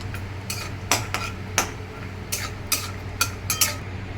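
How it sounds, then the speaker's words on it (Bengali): Peanuts being fried and stirred in a pan for sago pulao: a run of separate clinks and scrapes, roughly a dozen, as a utensil knocks the pan, over a low steady background with no talk. "তারপরে চিনাবাদামগুলো ভেজে নেব"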